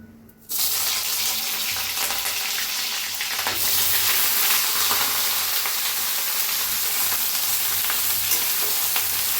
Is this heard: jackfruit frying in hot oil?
yes